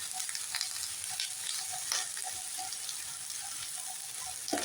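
Brinjal frying in a pan with turmeric and salt, a steady dense sizzle with scattered crackles and pops throughout, close and continuous, no voices.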